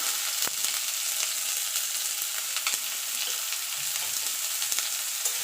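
Chopped onion fries in hot mustard oil with a continuous bright sizzle, scattered sharp pops and crackles throughout, close and fairly loud, with no voices.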